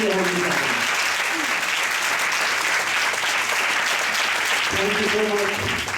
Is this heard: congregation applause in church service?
yes